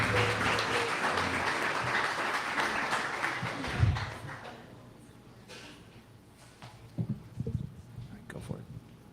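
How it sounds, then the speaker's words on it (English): Steady applause from an audience that fades out midway, followed by scattered claps and faint voices. "Let's give Sofiia a round of applause"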